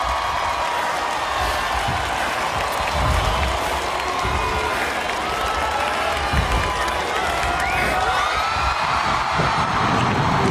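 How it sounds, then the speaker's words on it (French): A live audience claps hands together in a sustained, even patter of many hands, with crowd murmur and occasional whoops mixed in throughout, loud and continuous. "je veux que tout le monde tape dans les mains"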